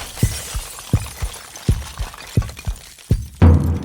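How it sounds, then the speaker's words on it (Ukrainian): Glass breaking and shattering in a large hall, a series of sharp crashes repeating at irregular intervals and ending in a louder, longer burst of scattering shards. "З глибини залу долинає перший звук розбитого скла."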